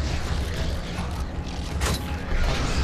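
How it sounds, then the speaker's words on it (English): A heavy door grinds slowly open in Gears of War, a steady low mechanical creak and rumble running throughout with a brief brighter scrape near the end, loud and close with no talking. "Why you have to open it so slow, bro?"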